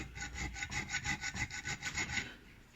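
A round file cuts a notch into a metal knife spine in about a dozen quick, even back-and-forth rasping strokes, close and rhythmic, then stops, with no talking.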